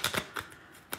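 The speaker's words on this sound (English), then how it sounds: "So I'm gonna shuffle." Tarot cards shuffled by hand, a few quick papery riffling bursts spaced unevenly, close and fairly soft with no talking.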